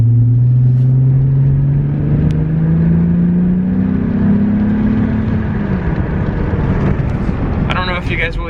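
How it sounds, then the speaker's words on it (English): Exhaust note of an Infiniti six-cylinder car fitted with Borla mufflers, a loud, steady low drone that rises gently in pitch as if under acceleration, close by and continuous, with a person talking over it. "it does have the Borla mufflers, and with the 6-cylinder it definitely sounds like an Infiniti"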